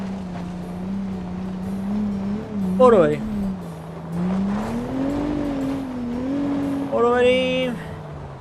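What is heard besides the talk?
Mercedes-Benz car driving and accelerating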